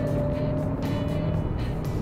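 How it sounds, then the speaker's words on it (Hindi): Hyundai Creta N Line SUV accelerating hard in sports mode, a steady droning engine note heard from inside the cabin, loud and continuous with no voices. "ये देखो पूरा स्पोर्ट्स मोड में पैर लगा दिया वो।"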